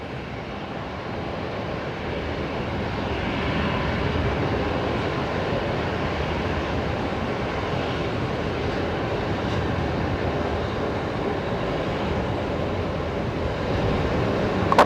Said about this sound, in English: Jetstar coming in next. On short final, that's Jetstar 484 from Williamtown